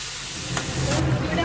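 Cauliflower and potato pieces rubbed with salt and turmeric frying lightly in hot oil, a brief close hiss and sizzle that swells toward the end.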